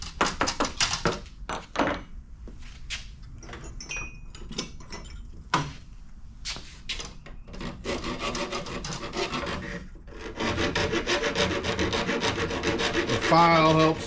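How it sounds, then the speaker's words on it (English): Close, dry rasping strokes of a metal file deburring brake line flare edges during a V8 swap. The strokes come in irregular bursts with light taps and clunks between them, then a longer run of steady filing near the end. "The file helps just remove any of the sharp edges for the flare."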